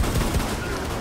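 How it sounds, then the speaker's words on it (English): Rapid bursts of gunfire in the video game Rainbow Six Siege as players shoot into walls, dense and loud throughout a short stretch with no clear talk. "Hey, everyone, just start shooting the walls."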